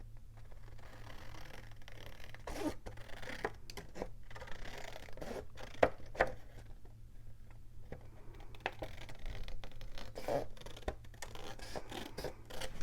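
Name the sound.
cutting the top off scrapbook paper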